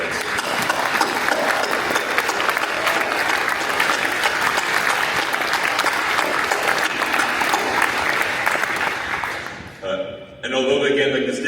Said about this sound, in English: please join me in a round of applause for your graduates